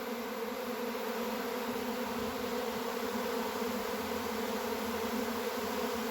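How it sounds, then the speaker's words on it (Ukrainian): A swarm of honey bees just out of the hive gives a dense, steady buzzing drone, even and continuous, with no voices. "круто, коли отак рій вийшов і дивишся на нього"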